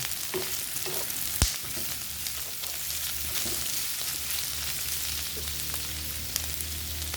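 Beef sizzling in a pan for Filipino ginisa, a steady close crackle with occasional stirring clatter and a sharp utensil knock early on.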